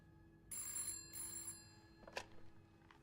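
A telephone rings in the murder mystery game This Bed We Made, two long trilling bursts followed by a short sharp click and softer noises, quiet and clean with no voices.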